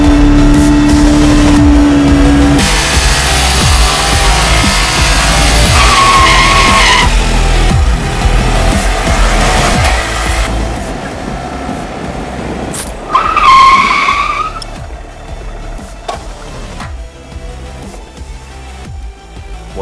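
A 2017 Honda MSX 125 motorcycle engine, loud and close, droning and revving with rising whines and a tire-skid-like squeal midway, then fading to a lower steady hum, with no talking.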